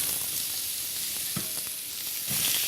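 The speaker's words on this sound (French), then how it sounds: "on va faire revenir les oignons et les champignons" Onions and mushrooms fry in a little fat in a sauté pan, a steady loud sizzle throughout with a few soft stirring scrapes around the middle and near the end.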